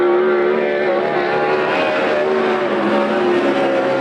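A sprint car at Coos Bay Speedway on a qualifying lap, its engine a loud sustained roar that holds steady with slight pitch shifts as it runs around the track.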